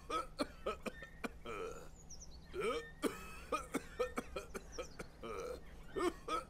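Repeated short, harsh bursts, one after another in an irregular run, like a character coughing hard in the video game Memoranda, with brief gaps and some background tones between fits.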